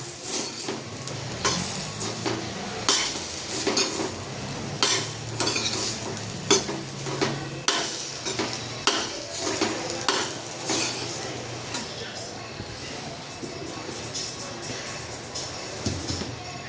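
A spoon stirs Kathiyawadi ridge gourd (galka) curry in a pan, making repeated close scraping strokes in an irregular rhythm over a continuous sizzle.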